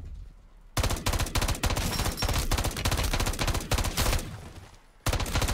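Loud, fast bursts of gunfire from Modern Warfare 3 Zombies crackle almost continuously over several seconds, pausing briefly before another burst starts.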